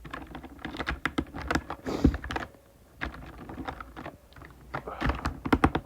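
Fast, irregular key clacks from a full-size Corsair K100 mechanical keyboard with numpad, close and crisp in bursts with a brief pause midway.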